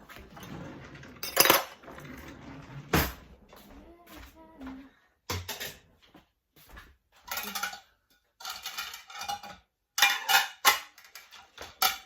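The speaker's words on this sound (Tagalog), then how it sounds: "So diretso ko na to ilagay sa lalagyan dito." Washed plates and dishes being stacked into a drying rack, sharp clinks and clatters in scattered bursts close at hand, with someone talking between them.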